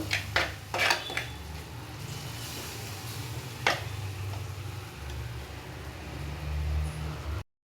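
Egg bhurji masala, dosed with coriander and pepper powder, being mixed in a pan: a few sharp clinks and scrapes of a spoon against metal near the start and one more midway, over a steady low hum, with no talking.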